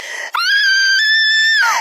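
A single loud, sustained high-pitched scream holds steady for over a second before breaking off, close and alone.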